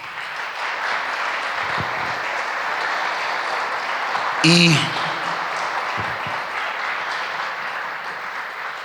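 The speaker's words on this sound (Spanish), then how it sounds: "Denle un aplauso al Señor" A congregation at a church service applauds in praise, continuous clapping filling the room for several seconds, with a brief voice or shout breaking through near the middle.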